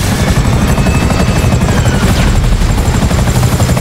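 Helicopter in the video game GTA 5, a loud continuous rotor thump and engine drone that stays steady throughout with no talking over it.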